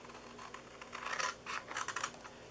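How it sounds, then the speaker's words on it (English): Scissors snip out small pieces for a homemade penguin-themed gift box, in short scratchy bursts of cutting, close and quiet, with no talking. "on this 1/2 inch side right here, we are going to cut out these 4 areas."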